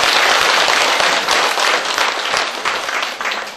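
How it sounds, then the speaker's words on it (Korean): Dense, loud applause bursts from the congregation at a Buddhist dharma talk celebrating a monk's book launch, a steady wash of many hands clapping without speech for a few seconds. "박수!"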